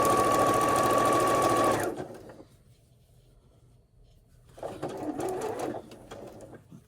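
A sewing machine runs a quilt seam on an easy man cave quilt, a loud, steady whirring burst of about two seconds that stops abruptly, followed later by a quieter stretch of handling noise.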